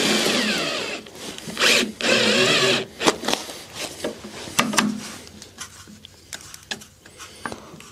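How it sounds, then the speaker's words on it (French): A power drill bores holes through quality aluminium profile while a solar panel is mounted on a camping car, with several loud bursts of drilling in the first half, then scattered handling knocks and clicks. "Il n'y a plus qu'à percer."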